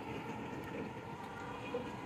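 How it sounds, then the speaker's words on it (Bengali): A metro rail train in Uttara, Dhaka passes by at a distance, a faint, steady rumble and hum lasting the whole short stretch without any clear clatter. "মেট্রো রেল যাওয়ার একটি চমৎকার দৃশ্য"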